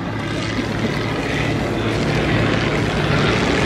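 A propeller-driven airplane flies very slowly at an airshow, its engine drone loud, steady and continuous throughout.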